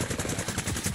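Rapid, dense bursts of gunfire crackle continuously, loud and close, like a sustained volley from automatic weapons.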